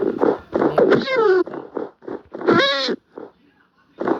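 A cat in the video game Minecraft meows in a few short, rising and falling cries, closely mixed with other voice-like sounds.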